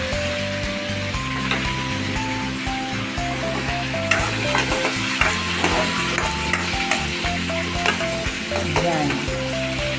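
Onion and garlic fry together in a pan, a loud steady sizzle with stirring scrapes and clinks of the utensil throughout.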